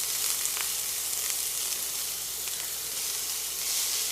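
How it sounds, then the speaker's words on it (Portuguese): Chopped onion sautéing in a pan for a creamy chicken roulade filling, a steady close sizzle with faint crackles throughout and no talking. "Vamos refogar aqui um pouquinho"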